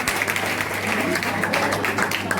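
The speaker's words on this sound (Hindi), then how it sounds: "एक बार जोरदार तालियां, जोरदार तालियां" A ceremony audience at Raja Mansingh Tomar University in Gwalior applauds with steady, sustained clapping from many hands throughout.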